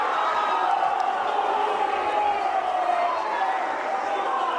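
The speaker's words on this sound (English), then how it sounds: "It's such a polite cheer, it's got to be an American football crowd." An American football crowd lets out steady, restrained cheering, a dense wash of many voices that holds at an even level throughout with no single voice standing out.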